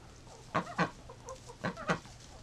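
Muscovy duck greeting another duck with soft, breathy calls: two short bursts, a quieter pause, then two more, close and fairly faint with no talking.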